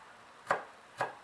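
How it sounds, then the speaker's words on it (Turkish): Two crisp knife chops through spring onions on a cutting board, about half a second apart, close and fairly quiet. "Taze soğanımı da doğrayayım bu aşamada."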